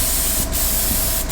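Steady, continuous hiss of aerosol spray paint being applied to a Halloween Kills rubber mask, close and loud, with only brief dips in the flow and no speech.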